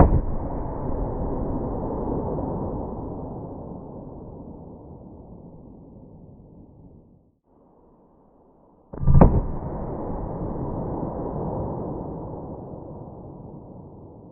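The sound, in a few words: 9mm full-size pistol with 5-inch barrel firing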